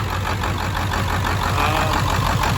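A 600-horsepower 7.3 Powerstroke diesel truck engine running steadily with a deep, rumbling idle and rhythmic low knocking, close and loud, alone without any talk.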